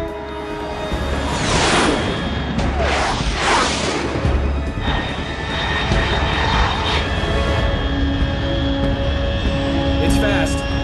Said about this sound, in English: Control. Unidentified aircraft detected.